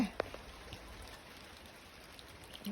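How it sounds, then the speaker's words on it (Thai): Steady rain falls during a rainy day in Norway, a soft, even hiss of drops on surfaces that runs through the whole stretch, with a brief tap near the start and no one speaking. "ฝนก็ตก"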